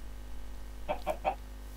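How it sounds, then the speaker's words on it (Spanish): Three short clucks from a Minecraft chicken in quick succession over a steady low hum, fairly faint. "¡Hay dos pollos! ¡Hay dos pollitos!"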